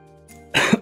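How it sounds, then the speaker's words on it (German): A single short, rough cough from a person, heard up close and loud after a brief faint rustle, with no speech around it. "Ein bisschen Husten bekommen."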